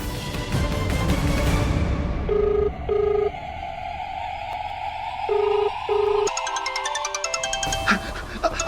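An electronic phone ring repeats in two-beat bursts over a sustained tonal background, loud and close, with no voices, in a TV drama scene.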